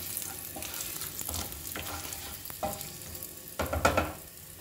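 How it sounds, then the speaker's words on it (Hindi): Dum aloo sautéing and being stirred in a pan, a steady soft sizzle broken by scraping strokes of a spoon, louder clattering stirs near the end; no talk. "इस तरह से इनको अच्छे से सब में 1-2 मिनट के लिए भूनेंगे।"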